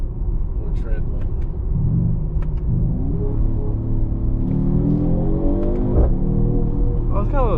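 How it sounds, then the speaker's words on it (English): A 2024 Mercedes-AMG GT53 4-door accelerating on the road, its engine rumble rising in pitch with a faint turbo spool building beneath, heard from inside the cabin while a person talks. "it's got a little turbo spool"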